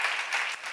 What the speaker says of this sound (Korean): 믿는 사람만 박수해